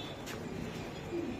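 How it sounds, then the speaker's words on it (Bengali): Imported pigeons at a bird market give a faint, soft coo in the background; the call is brief and quiet. "হ্যাঁ একদম ইম্পোর্ট কবুতর এগুলা"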